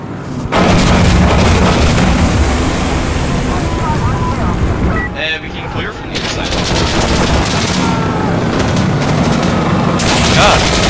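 Rockets exploding and heavy gunfire from a commander-style shooter game, a loud, dense wall of booms and rattling fire that briefly dips midway before surging back at full intensity.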